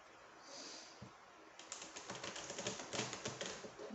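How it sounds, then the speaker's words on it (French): Oracle cards are shuffled by hand, first a soft rustle, then a quick run of crisp, close flicks and taps as the deck is riffled, quiet overall with no talking. "Je vais quand même le remélanger un petit peu."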